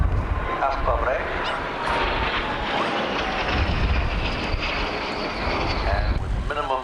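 Training aeroplanes flying a display at a 1989 RAF Scampton airshow roar continuously overhead, a broad steady engine drone with wind buffeting the microphone, heard under a commentator's voice.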